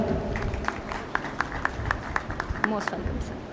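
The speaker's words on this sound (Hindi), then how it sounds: "please put your hands together everyone" Scattered, moderately faint clapping comes from an audience at a seminar in Indore, with individual claps picking out a loose rhythm beneath ongoing talk and background murmur.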